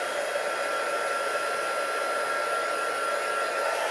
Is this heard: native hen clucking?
no